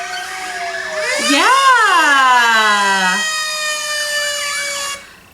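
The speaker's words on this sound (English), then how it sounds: "Yeah, and it's also a big fire truck." A fire truck siren sounds loud and close, rising in one swooping wail and then holding a high steady tone before it cuts off; a voice speaks briefly.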